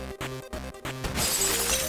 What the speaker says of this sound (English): If you can break the glass with a sickle.